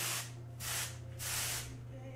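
Barley and rice starch hair spray hisses from a can onto short gray hair in three quick bursts, close and fairly soft, each spray lasting about half a second with brief pauses between.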